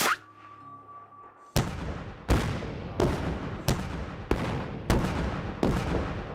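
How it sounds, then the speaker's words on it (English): Artillery rounds fired for avalanche control along a highway in the mountains of southern Colorado, seven loud booming blasts at a steady pace, each rolling out in a long echo, after a sustained tone. "catch a real avalanche control operation on this highway in southern Colorado"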